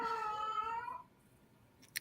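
A single cat lets out a drawn-out, whiny meow lasting about a second, close and clear, then quiet room tone follows, ending with a brief faint click.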